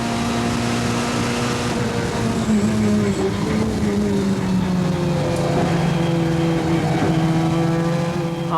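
Ford touring cars racing at Silverstone in 1988, engines droning and shifting pitch as they pass, a loud, continuous mechanical whine with a crowd-like background.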